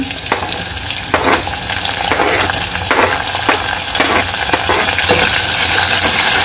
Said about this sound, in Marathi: आता याच्यात कांदा टाकून द्यायचा आहे.